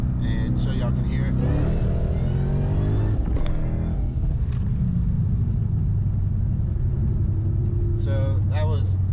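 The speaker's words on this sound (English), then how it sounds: "So that was second to third, full throttle in second, about half throttle in third." A 700hp 2016 Mustang with exhaust cutouts roars as it accelerates at full throttle in second, revs dropping at the shift to third before pulling again at half throttle, loud and close throughout.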